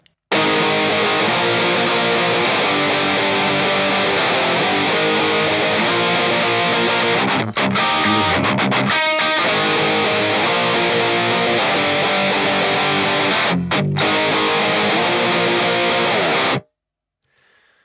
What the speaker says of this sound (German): dieses aggressive Höhengezischel, das durch den hohen Verzerrungsgrad auch verursacht wird